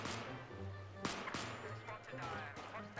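Scattered gunshots crack in the Battlefield 4 video game, with about three sharp reports spread over a few seconds beneath a busy, noisy game soundscape.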